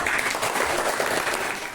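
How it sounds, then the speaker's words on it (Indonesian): A classroom of students applauds a student group after their presentation, a short burst of brisk, fairly close clapping with no voices. "Tepuk tangan untuk kelompok"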